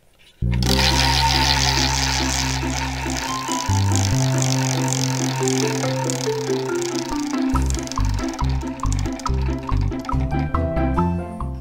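A prize wheel spins with a rapid clicking rattle that gradually slows into separate ticks before stopping, close and loud, over a musical tone in the background.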